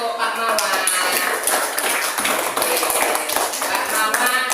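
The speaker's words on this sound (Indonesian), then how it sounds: "Tepuk tangan untuk Pak Mawa" Classroom applause for a man called Pak Mawa, a steady dense patter of many hands clapping at close range, loud and unbroken, with children's voices and chatter mixed in.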